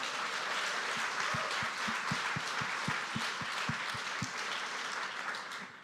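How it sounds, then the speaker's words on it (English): An audience applauds at a live in-person debate, with a dense, steady wash of clapping from a room of people and some distinct nearer claps, fading slightly at the end. "Round of applause for all of you guys for coming."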